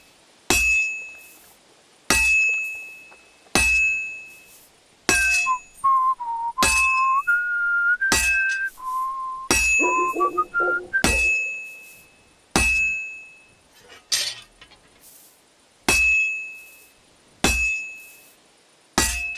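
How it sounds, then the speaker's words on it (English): A character whistles a wavering tune in Kingdom Come Deliverance 2 between regular bright metallic clinks, a ringing chink about every second and a half that continues alone once the whistling stops. "Your whistling threw me off. Stop whistling."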